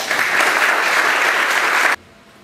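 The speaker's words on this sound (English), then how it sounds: "Give yourself a round of applause." Audience applause at a hospital award event honoring a top spine surgery program in Georgia, a dense, steady burst of many hands clapping that stops abruptly after about two seconds.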